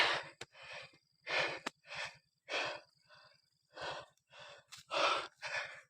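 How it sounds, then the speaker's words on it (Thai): A person pants heavily from exhaustion in about ten rapid, loud, breathy gasps at close range, with short gaps between breaths and no talking. "เหนื่อยหอบ"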